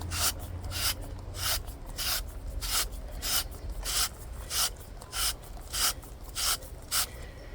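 Handheld spiralizer cutting fresh garden zucchini into spirals: a steady run of about a dozen rhythmic rasping, scraping strokes at close range, each a short bright burst with brief pauses between, no talking.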